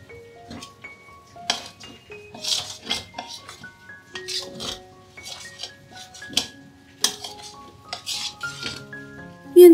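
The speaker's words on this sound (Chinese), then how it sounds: "面粉炒均匀后" Flour stir-fried in a pan for vegetarian otak-otak, heard as repeated scraping and clinking of a utensil against the pan with light sizzling, close up, with no talk.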